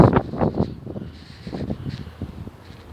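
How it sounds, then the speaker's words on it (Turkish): Gusty wind buffeting a microphone outdoors, with rustling bursts that fade to a softer, steady blowing. "Ama şimdilik hava çok rüzgarlı arkadaşlar."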